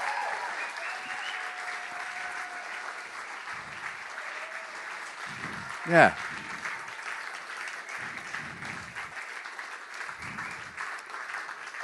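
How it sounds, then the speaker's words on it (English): An audience gives a round of applause: steady, dense clapping throughout, with one sharp louder clap halfway and a brief murmur of voices. "let's give them a half-time round of applause."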